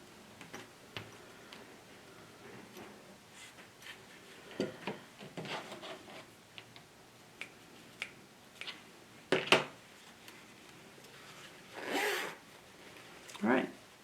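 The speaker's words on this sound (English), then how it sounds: "Zipper works." Zipper on a small sewn wallet or wristlet being opened and closed in short raspy pulls between clicks and handling, quiet and close, with a brief spoken remark.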